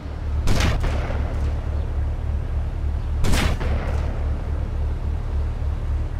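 Two sharp sniper rifle cracks from the game GTA Vice City Stories, spaced a few seconds apart, loud over a steady low engine-like hum.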